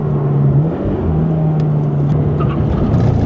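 A Toyota GR86 Cup Car power slides through a corner at Buriram Circuit, its engine droning loud and steady with a sustained held note and faint tire and wind noise throughout.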